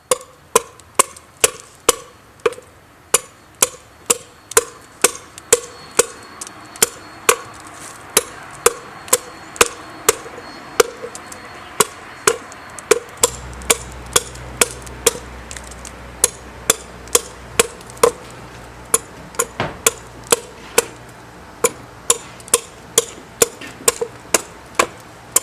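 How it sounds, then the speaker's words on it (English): A wooden bowl is carved by hand with steady, rhythmic strikes, each a crisp, close knock, repeating for the whole stretch with a low hum underneath in the second half. "I'm carving this bowl almost entirely by look and feel"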